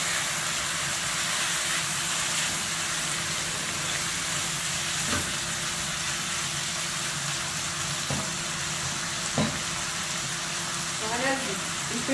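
Liver frying in a pan as kashk is stirred in, a steady loud sizzle running throughout with a few brief clinks, while a person talks over it.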